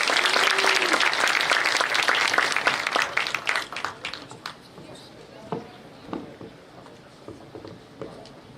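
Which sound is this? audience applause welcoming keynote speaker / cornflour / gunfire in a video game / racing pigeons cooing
audience applause welcoming keynote speaker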